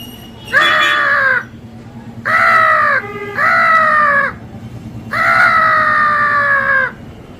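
A man mimics the cry of a small crow in four drawn-out, loud, nasal wails, each lasting about a second, close and alone over faint background hum.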